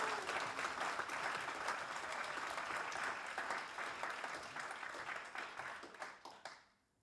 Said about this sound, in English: So very, very big round of applause for you guys for this great presentation.